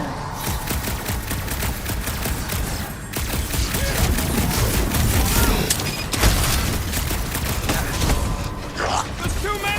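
Heavy weapons blasting in Guardians of the Galaxy on PS5: a continuous barrage of loud booming shots and explosions with clanking mechanical noise, close and relentless, while characters shout over the combat.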